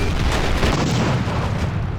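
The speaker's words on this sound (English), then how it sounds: "Let's see what this artillery strike does." An artillery strike hits in the strategy game Close Combat Modern Tactics as a dense, loud, sustained roar of explosions and rumbling blasts that fills the whole stretch without pause.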